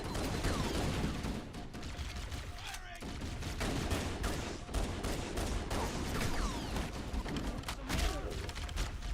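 Needler rounds bursting in Halo: Combat Evolved Anniversary, a dense stream of crackling explosions and gunfire that runs nonstop through the whole stretch, loud and busy.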